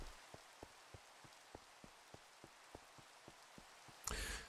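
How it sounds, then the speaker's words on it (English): Rain falling in Minecraft, a faint steady hiss of drops with evenly spaced soft ticks repeating about every third of a second, ending in a brief louder burst of noise. "Rain in Minecraft."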